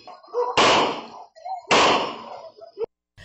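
Two sharp, loud gunshots about a second apart, fired by a man on a road beside a fallen motorcycle, picked up on CCTV, each blast ringing out briefly with faint background noise between.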